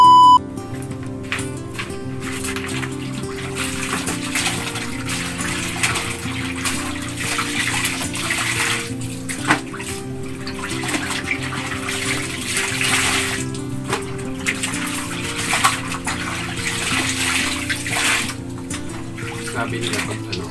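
Water splashes and sloshes steadily as laundry is washed by hand, a close and continuous wet churning that runs the whole time, with someone talking over it.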